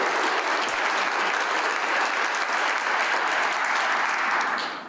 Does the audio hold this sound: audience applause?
yes